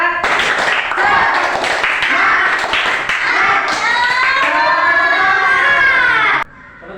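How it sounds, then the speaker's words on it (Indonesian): Fourth-grade schoolchildren in a classroom perform a rhythmic tepuk semangat clapping cheer, chanting together in bursts of patterned claps, loud and close, ending abruptly. "Tepuk semangat"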